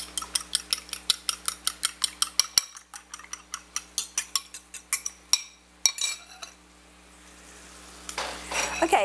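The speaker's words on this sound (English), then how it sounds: "I've whisked together the mayonnaise, the milk, the cornstarch, and the eggs" A whisk beats eggs, mayonnaise, milk and cornstarch in a bowl for a hamburger quiche, giving quick, evenly spaced clinking strokes that are close and clear, then a brief pause and a few scraping strokes near the end.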